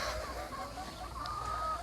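Chickens in their coop cluck softly and intermittently at moderate distance over a low, steady background hum.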